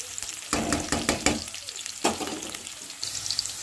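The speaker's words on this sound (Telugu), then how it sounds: "ఆనియన్స్ ఫ్రై అవుతా ఉంది" Onions fry in a pan with a steady close sizzle, broken by a few sharp bursts of stirring and scraping.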